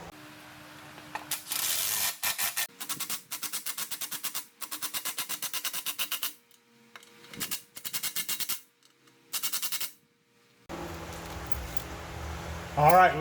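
Bolts are fastened on the leaking exhaust of a 2013 Lincoln MKX, in repeated bursts of rapid ratchet clicking separated by short pauses, close and clear.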